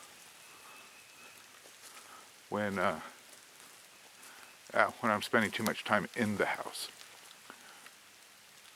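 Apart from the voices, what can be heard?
rain falling outside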